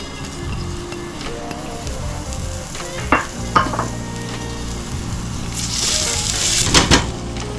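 Onions and garlic frying in a pot as the base of a one-pot kielbasa stew, a loud close sizzle with stirring scrapes and a few sharp clatters, the frying swelling louder toward the end.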